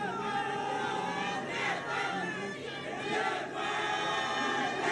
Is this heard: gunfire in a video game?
no